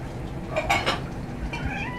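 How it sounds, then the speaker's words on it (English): A cat meows a couple of times at close range around treat time, mixed with faint clinking of dishes in a home. "You following me around meowing at me?"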